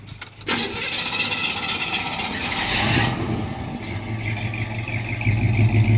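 A 1970 Chevrolet C10 pickup with Flowmaster dual exhaust cranks over and fires. It settles into a steady, close exhaust rumble that swells slightly toward the end, with no talking.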